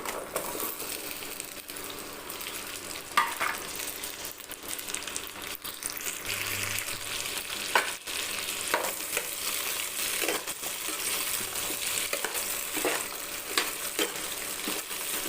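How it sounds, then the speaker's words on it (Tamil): Onions and tomatoes sautéing in oil on a tawa give a steady, close crackling sizzle, broken by occasional scraping stirs of a spatula against the pan; no one speaks. "நல்லா வதங்கிருச்சு வெங்காயம் தக்காளி எல்லாமே"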